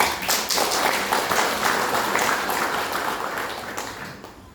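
Church congregation clapping during a Christmas family service, a brief burst of dense applause that swells quickly and then tapers off toward the end.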